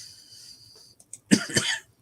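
A single short cough, close and fairly sharp, preceded by faint background noise and a couple of tiny clicks, with no talking.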